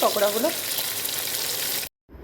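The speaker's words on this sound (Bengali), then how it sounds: "এই মাছগুলো ভেজে ফেলবো এখন।" Bombay duck pakoras fry in hot oil with a busy, even sizzle. A brief voice sounds near the start, and the frying cuts off abruptly near the end before a faint hiss returns.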